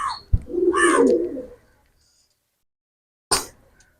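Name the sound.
pigeons cooing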